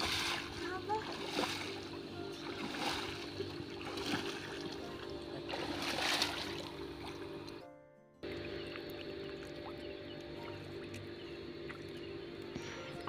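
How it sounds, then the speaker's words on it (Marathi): Water splashes in a river as a head is washed, with several rhythmic splashes and pours close by and a soft flowing background. "डोक्यातून एकदा पाणी घे चांगलं."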